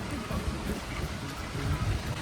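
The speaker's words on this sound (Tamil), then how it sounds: "மழை வேற வருது." Steady rain falls at a waterfall in Kerala, a dense continuous hiss with low rumbling water, with soft voices faintly underneath.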